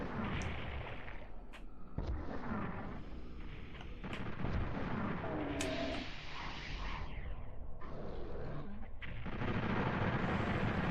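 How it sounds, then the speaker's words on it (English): Heavy gunfire and explosive blasts from enemy commandos in the PlayStation shooter Final Doom, dense repeated shots and booms layered over a rumbling game soundtrack, loud and continuous, with no talking. "I'm getting shot at from behind."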